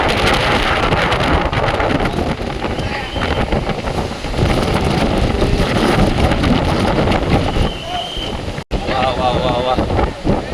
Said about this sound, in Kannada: ಗಾಳಿ ಮಾತ್ರ ಸಿಕ್ಕಾಪಟ್ಟೆ ಜೋರಾಗಿ ಬೀಸ್ತಾ ಇತ್ತು ಇಲ್ಲಿ.